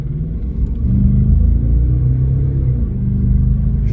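Audi A8 under full throttle, a steady low engine rumble that swells and holds with a slight drop near the end, heard from inside the car with no talking.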